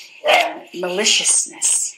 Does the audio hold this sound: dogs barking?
yes